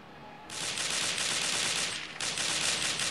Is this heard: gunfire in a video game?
yes